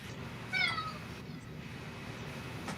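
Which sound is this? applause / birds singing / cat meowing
cat meowing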